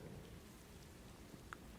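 Steady rain falling in the Death Stranding 2: On the Beach video game, a soft, even hiss of drops on surfaces, quiet and continuous, with one faint brief tick near the end.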